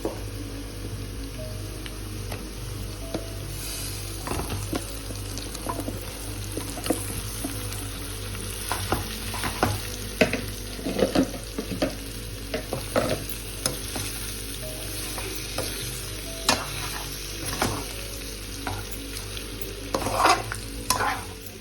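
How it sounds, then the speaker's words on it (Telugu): Marinated country chicken frying in a pan over browned onion tempering, a continuous crackling sizzle broken by frequent scraping and clattering stirs, close and fairly loud. "సో ముందుగా మ్యారినేట్ చేసి పెట్టుకున్న చికెన్ని దీంట్లోకి యాడ్ చేసేసుకోవాలి"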